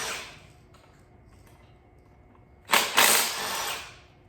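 A power tool spins out Torx T30 bolts on an Audi 2.0T engine, a sudden loud whirring burst late on after quiet handling and faint mechanical clicks.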